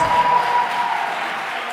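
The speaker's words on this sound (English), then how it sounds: "Well, let's give them a round of applause." A school audience at a learner-led dialogue gives a round of applause, a short, moderately loud patter of clapping that fades slightly over under two seconds.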